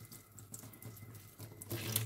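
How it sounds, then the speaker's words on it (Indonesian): Tap water runs steadily into a sink as rooted mint cuttings are rinsed one by one, a continuous close splashing hiss with no voices. "Di bawah air mengalir, batangnya harus dicuci biar nggak berlendir."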